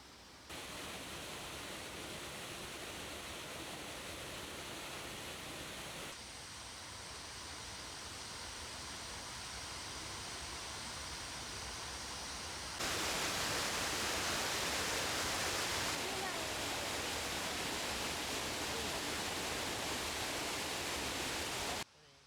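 Steady rushing spring water near Mount Fuji, about 1.5 tons per second, flows continuously, loud and broadband, with an abrupt jump in intensity partway through, like a strong spring outflow nearby.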